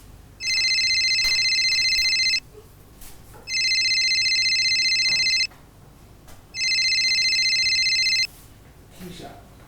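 A telephone rings in a car in three long electronic trill bursts separated by short pauses, clear and fairly close, with faint background sounds between rings.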